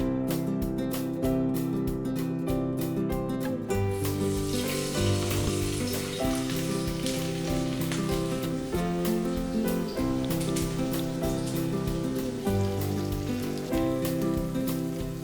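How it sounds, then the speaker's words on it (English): Fish frying in hot mustard oil, a dense continuous sizzle with scattered spitting crackles, close and loud, with a faint tonal hum running beneath it. "We will now heat the mustard oil to fry the fish."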